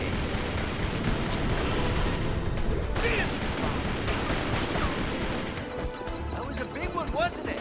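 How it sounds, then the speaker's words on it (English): Frag grenade explosions in the video game Tomb Raider: Legend: several heavy blasts and crashing bursts come in quick succession, loud and dense, with game effects and scattered tonal sounds mixed in. "There's nothing but old-fashioned frag grenades."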